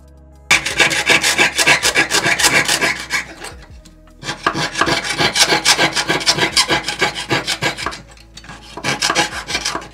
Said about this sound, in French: Une fois que vous avez découpé vos cercles irrégulier